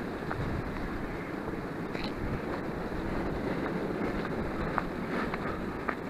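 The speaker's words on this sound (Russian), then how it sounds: "Вот это ветер." Strong wind on Tsarev Kurgan hill near Samara buffets the microphone in a constant low roar, with gusty rumbling and occasional faint clicks, no voices.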